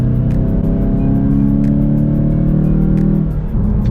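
A 2021 Volkswagen Golf GTI with a six-speed manual runs in sport mode, its engine droning loud and steady under load as a rising, sustained rev from inside the car, the pitch easing near the end, no speech.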